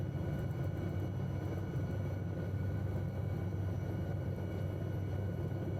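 Steady, loud helicopter engine and rotor drone fills the cabin on a night tour over Paris, a constant low rumble with no break across the whole stretch.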